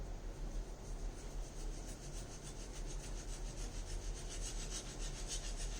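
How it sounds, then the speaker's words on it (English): Old Spice musk shaving cream being lathered with a brush, a steady close swishing and rubbing that runs continuously without pause, with no talking. "let's begin to lather."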